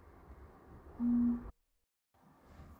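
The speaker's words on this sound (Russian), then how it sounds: "Кто это звонит?" A phone ring or notification tone during a game session: a single pure steady beep, briefly loud, followed by a sharp cut to silence before background noise resumes.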